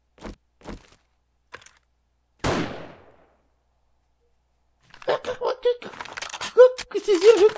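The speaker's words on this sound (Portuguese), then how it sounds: "vamos dar um tiro para ver o barulho dele" A single rifle shot from the game 7 Days to Die cracks out sharply after a few faint taps, then a player talks afterward.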